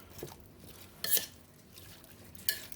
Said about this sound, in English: And give it one more stir.